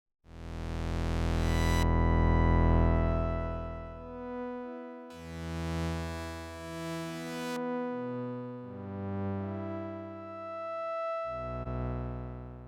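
Synth pad played through a low pass filter, a sequence of sustained chords fading in softly, with the bright upper tones cut away partway through so later chords sound darker and smoother, played alone.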